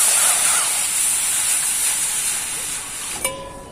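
A pot of water heating on a home stove gives off a steady, loud steamy hiss that runs nearly the whole time, then cuts off sharply near the end, leaving a faint tone and quiet room noise.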